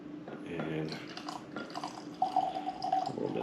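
Old Crow whiskey pours into a glass with a light dripping trickle, partly masked by someone talking close by.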